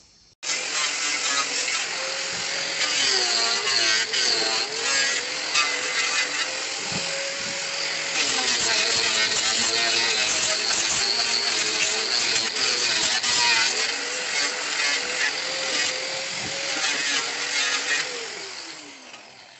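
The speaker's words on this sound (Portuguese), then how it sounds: "agora ele vai fazer o acerto na lateral e depois lixar" A high-pitched power tool whines continuously while trimming the edge of a wooden tabletop, loud and close for most of the stretch, with small shifts in pitch as it bites into the wood before winding down at the end.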